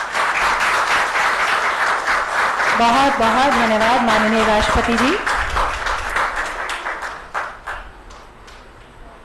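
An audience claps at a ceremony with President Droupadi Murmu, held on her birthday among children with impairments in Dehradun. The dense, sustained applause continues under someone speaking, then thins out into scattered claps.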